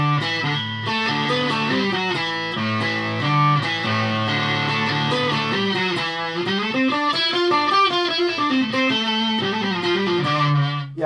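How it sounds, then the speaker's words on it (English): A 12-string electric guitar played through distortion rings out alone, strummed chords and shifting riffs with a shimmering doubled tone, loud and continuous. "it does sound like a 12 stringer"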